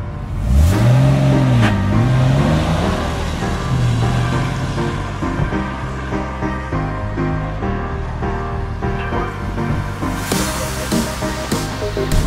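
A car engine revs up and down repeatedly as the vehicle weaves through a pylon slalom on a race track, loud and close, with music playing underneath.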